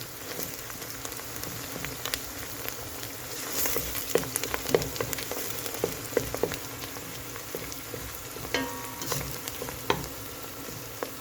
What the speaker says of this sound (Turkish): Burada domates salçam, biber salçam karışık. Kokusu çıkana kadar kavralım.